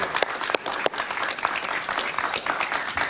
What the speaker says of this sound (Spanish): Un aplauso para Moisés, por favor.